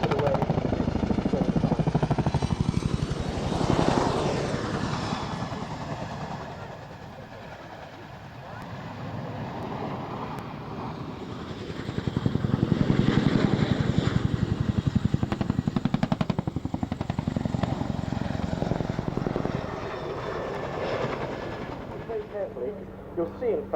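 A Chinook helicopter flies past at an RAF Waddington airshow, a loud continuous rotor and engine roar that swells and fades twice as it passes, with a commentator talking over it throughout.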